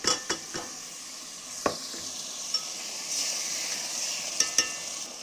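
Mutton pieces sizzle and fry in masala in a pot while a spoon stirs, with steady hissing broken by several sharp scrapes and clinks of the utensil against the pan.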